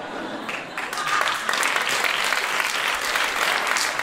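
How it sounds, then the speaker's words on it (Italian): Sustained audience applause fills a stand-up comedy show, steady and dense throughout, swelling slightly after the first second and holding at full strength with no voices above it. "Addirittura, applausi."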